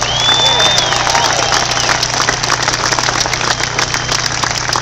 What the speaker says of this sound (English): would you all give yourselves a round of applause on that front?